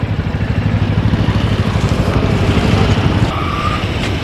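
A motorcycle engine on a training course as the rider opens the throttle, a close, pulsing engine growl that swells and then eases, heard alone.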